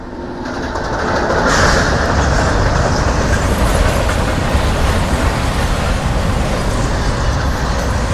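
A passenger train rolls slowly past on the Ambur route, a steady loud rumble of wheels with faint clickety-clack rising after the first second and holding without break; no voices.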